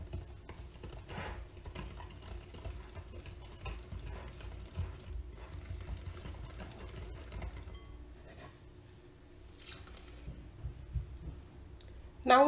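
Wet ingredients are whisked into pancake batter in a bowl, producing soft, rapid, irregular tapping and clicking strokes, quiet and close, with a brief louder clink at the end.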